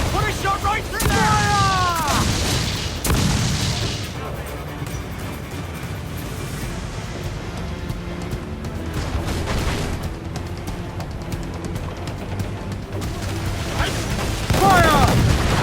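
Heavy ship cannon blasts boom out in several broadband bursts during a naval battle in Assassin's Creed IV Black Flag, loud against a constant roar of wind and sea, with shouting voices over the barrage.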